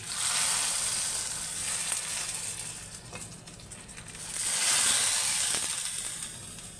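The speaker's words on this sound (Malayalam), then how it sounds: "അതിന് നമുക്ക് ഗ്യാസ് ഓഫാക്കി നമുക്ക് ഇതിലേക്ക് വറവിട്ട് കൊടുക്കാം." Hot cumin tempering poured into mango pulissery curry with the gas off, a loud sharp sizzle that swells, eases off, then flares again before settling, no voices.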